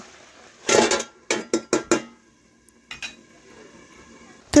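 A metal lid is set onto a cooking pan of peas simmering in water, giving a cluster of sharp clanks followed by a few separate knocks and rattles, close and fairly loud, with quieter clinks afterward.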